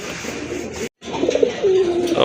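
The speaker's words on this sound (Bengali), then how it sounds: "দুইটাই কিন্তু কলসি গলা কবুতর" Kalshi-neck pigeons coo softly and close by in low, throaty rolling calls, with a brief silent gap partway through.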